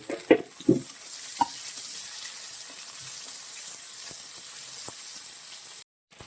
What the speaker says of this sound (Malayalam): ചെറുതായിട്ട് അരിഞ്ഞ സവോളയാണ് ഇതൊന്നും എടുത്തിട്ട് നന്നായിട്ടൊന്ന് വാട്ടി